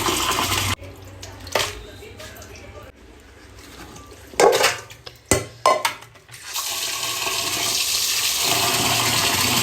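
Raw chicken being rinsed in running water at a home kitchen sink, with a tap gushing steadily, bursts of splashing and handling in the middle, then a sustained pour of water to the end.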